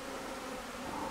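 Honey bees fly out of the hive in calm February weather, a continuous soft buzzing drone of many insects heard steadily at low volume outdoors.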